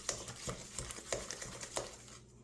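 An egg being stirred into sugared butter in a bowl for bran muffin batter, rhythmic soft spoon taps and scrapes about every quarter second, close and quiet, no voices.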